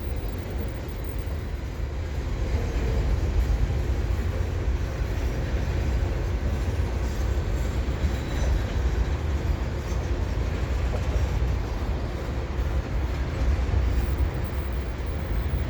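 An eastbound CP stack freight train passing Dorval on a still, sunny winter day, a steady, loud, continuous rumble of rolling railcars with wheel noise that holds throughout, without voices.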